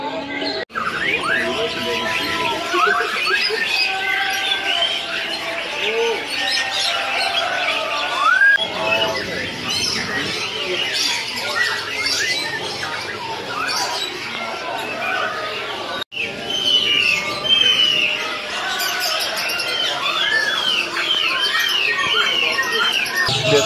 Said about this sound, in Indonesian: Kalau kenari kan bisa buat masteran burung yang lain, karena kenari tuh berisik suaranya.